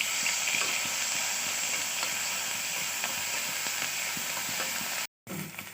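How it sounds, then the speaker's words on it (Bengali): Sliced onion frying in hot oil gives a steady, close sizzling hiss with faint stirring clinks, broken by a brief silent gap near the end. "তেলের মধ্যে আমি পেঁয়াজটা দিয়ে একটু নেড়ে নেব।"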